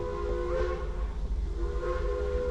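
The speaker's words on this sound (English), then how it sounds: "Hear that train off in the distance, y'all?" A steam train whistle at a holiday festival sounds from a distance, a steady tonal blast that swells twice over a low rumbling background with no talk.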